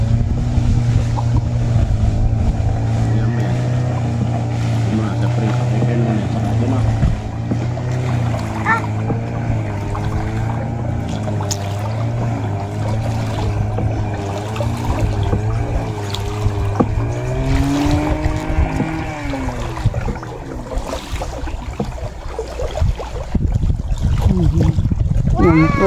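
A motorboat engine drones steadily on a river, a loud continuous hum that shifts pitch partway through, with people talking over it.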